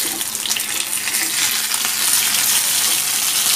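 Vavval (pomfret) fish frying in a hot pan, a dense, steady sizzle with bubbling crackle running continuously and fairly loud throughout, close by, with no voices.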